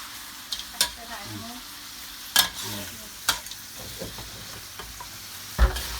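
Thai curry paste of pounded chillies, galangal, lemongrass and kaffir lime leaves stir-fried in a pan, a steady low sizzle with sharp scraping clicks of a utensil against the pan at irregular intervals, close and alone without talk.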